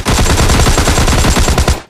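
Rapid automatic gunfire from a gun in a video game, a loud, dense burst of continuous shots that cuts off abruptly after about two seconds, with no talking.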